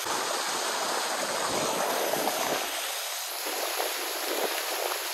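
Water flows and rushes steadily around feet in an outdoor stream or improvised pool, a continuous broadband wash with some wind buffeting on the microphone and no clear speech.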